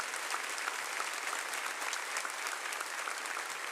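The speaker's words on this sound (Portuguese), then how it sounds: "Então aplauda o Senhor mais forte" A church congregation applauds, a dense, steady wash of many hands clapping together at even loudness throughout, with no voices standing out.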